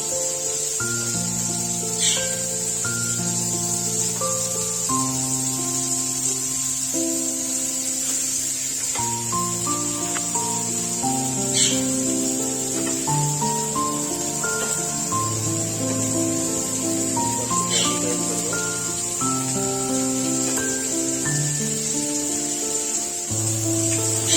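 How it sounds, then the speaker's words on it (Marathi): Sardines frying in oil in a pan on a gas stove, Konkan style: a steady, close sizzling hiss that runs the whole time under background music. "गॅस करून आपण त्याच्यावरती तळत आहोत मच्छी फ्राय करत आहोत"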